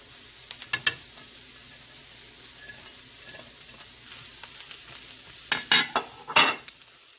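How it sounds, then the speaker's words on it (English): Pork and shrimp fried rice frying in a hot pan, a steady close sizzle with scattered scrapes and a burst of louder stirring and clattering toward the end, no voices. "Turn the heat up a little bit, because you want to hear that nice sizzling"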